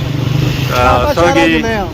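A new 2022 Honda motorcycle engine runs at a Honda dealership in town in the evening, a steady low drone close by, mostly covered by someone talking over it.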